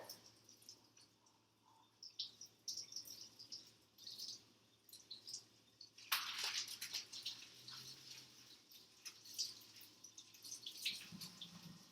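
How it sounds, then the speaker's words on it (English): Tap water runs softly into a sink while kale leaves are rinsed, a faint, steady trickle with brief splashes and louder gushes partway through. "So I'm just rinsing the kale."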